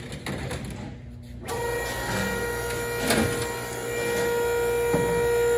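A hydraulic pump motor in a hydraulic trainer starts up and settles into a steady mechanical whine with a constant hum, close and continuous.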